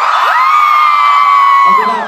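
A loud, sustained scream rises from a convention panel audience, one long high shriek held close and strong for about two seconds before breaking off.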